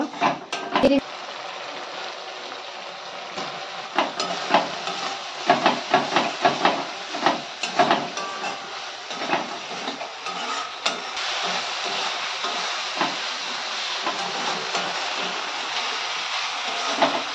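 Spice masala with fish sautéing in a pan, giving a steady, close hiss of sizzling with frequent crackles and spits all the way through, while a voice talks over it.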